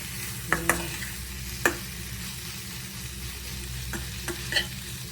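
Vegetables frying in a pan, a faint steady sizzle with a few sharp clicks of a spoon against the pan as they are stirred, no talking.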